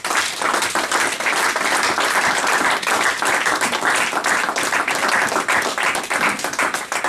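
Church congregation applauding loudly, a dense, sustained roar of clapping that holds at full strength throughout, close and unbroken.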